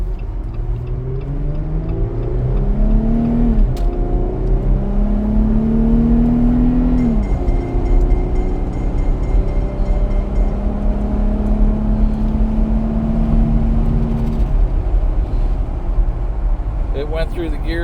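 A 2020 Jeep engine pulls away from a stop and climbs through the gears, a loud steady drone with rising pitch sweeps and brief dips at each shift, heard from inside the cabin throughout.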